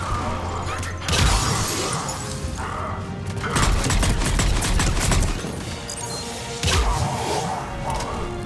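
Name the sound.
weapon firing through a mail slot in Mass Effect 3 video game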